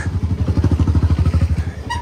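A motorbike taxi's small engine chugs loudly and close on a street in Juba, South Sudan, its fast, regular throbbing pulses holding steady before easing off near the end.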